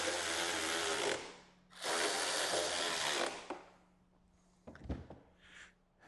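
A power tool tightens bolts on a Hertz/Cicada dual 10-inch saddlebag subwoofer kit for a 2014-2023 motorcycle, with two loud, close bursts of whirring, then a pause and a few brief clanks.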